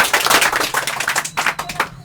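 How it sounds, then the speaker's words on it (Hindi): An audience on the Hindi game show Kaun Banega Saikdapati gives a winner loud applause. Dense, bright clapping goes on steadily for about two seconds, close and alone. "एक बार फिर से जोरदार ताली से"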